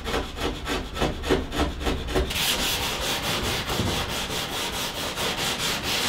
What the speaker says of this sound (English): I just used a chisel and sandpaper and just kept checking with that little offcut just to make sure it fitted